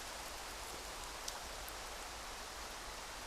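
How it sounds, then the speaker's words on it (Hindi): Rain falling, a faint steady hiss of drops with no voices and no distinct individual splashes. "बारिश हो रही है"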